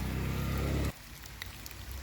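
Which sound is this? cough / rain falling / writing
rain falling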